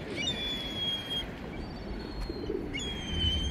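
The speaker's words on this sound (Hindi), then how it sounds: "ये देखें, ओह देखें कितना कबूतर है, अल्लाह माफ करे।" Pigeons cooing on a city street beside a footpath, soft repeated coos mixed with some chirps over steady low traffic and street noise.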